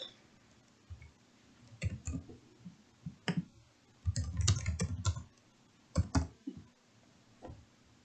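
Bursts of clicking keystrokes on a computer keyboard, typed in short irregular clusters with pauses between them, close by and fairly quiet.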